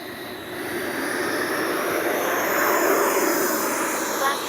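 An FMS Avanti S 90mm RC jet takes off, its ducted fan building into a loud, broad roar that swells steadily and stays close throughout, with no talk.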